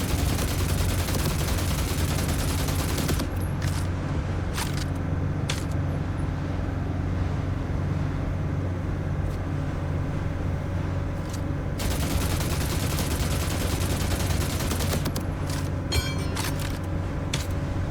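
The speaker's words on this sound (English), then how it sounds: "Let's see if we can shoot this shark a little bit." Gunfire aimed at a shark in The Last Caretaker video game: loud, dense rapid shots in long sustained volleys with a brief lull between bursts, and no voices.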